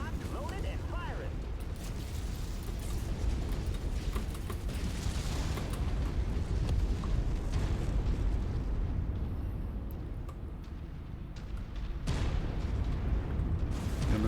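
Weapons fire and explosions from the MechWarrior 5 video game form a dense, continuous wash of booms, blasts and mechanical rumble at steady loudness, with a few sharper bursts near the end.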